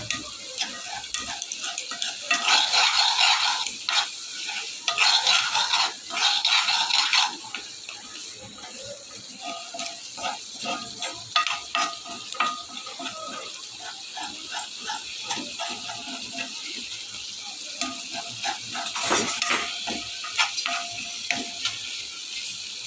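Dried fish (shutki) stirred and frying in a pan, with a steady sizzle and scraping stir strokes, louder in the first few seconds, then continuing more softly.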